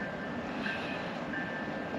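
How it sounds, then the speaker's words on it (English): A train rumbles past nearby in an urban area, a steady low roar with faint squealing wheel tones, continuous and moderately quiet throughout. "You always hear the trains around here."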